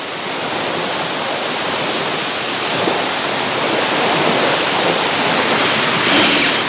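Sea waves rush in a steady, dense wash of surf noise that swells slightly toward the end, loud and continuous with no voices.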